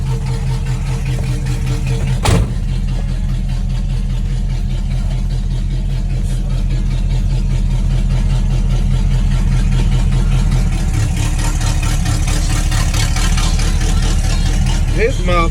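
Straight-piped 1958 Sierra at a car meet, a loud close rumbling idle with a lopey pulse and a rev swell near the end, with people talking over it.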